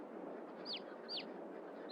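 Chickens on a farm in Farming Simulator 22 give short, repeated high chirping clucks, three quick calls spaced roughly half a second apart over a steady ambient hum.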